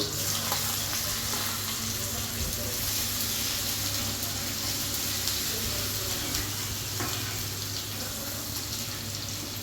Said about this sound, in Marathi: तेल गरम झालेलं आहे, आता आपण याच्यामध्ये कांदा ॲड करू।